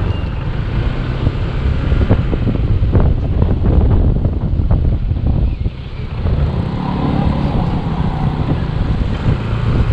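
Choppy waves on Taal Lake churn and splash continuously under heavy wind buffeting the microphone, a rough, unbroken roar with brief dips.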